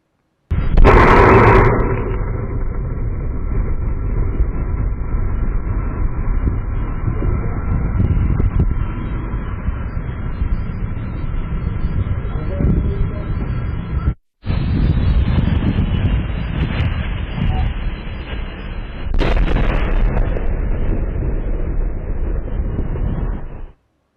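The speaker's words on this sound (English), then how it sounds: "Listen in to this one footage of the explosion extracted" Port Arthur oil refinery explosion in Texas caught by a door camera, opening with a sharp loud blast followed by sustained roaring rumble, a short cut, then another burst and continued heavy roar.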